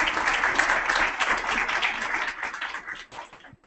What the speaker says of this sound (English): we can give them a round of applause for all their work